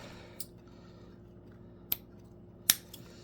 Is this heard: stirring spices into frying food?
no